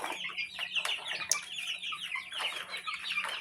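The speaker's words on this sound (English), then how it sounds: "these are the barred rocks, buff Orpingtons, and Australorps" Barred Rock, Buff Orpington and Australorp chickens kept in a garage brooder cluck and chirp close by in soft, overlapping bursts, with a brief flutter of wings.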